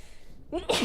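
A single sharp sneeze from a woman during a gaming livestream, close and sudden after a moment of quiet, with a quick intake of breath before it.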